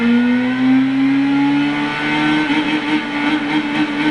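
Simulated race car engine in Gran Turismo 6 at Brands Hatch Indy circuit, revving loud and steady with a rising pitch and a slight hiccup during a gear change, continuous throughout.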